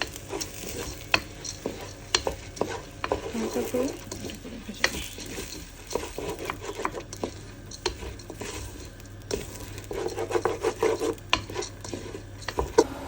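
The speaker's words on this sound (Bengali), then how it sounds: "মুগ ডালটা আমি আগে ভেজে নিব" Mung dal dry-fries in a pan for khichuri, with a dense run of close, gritty scraping stirs and light clinks of a utensil against the pan.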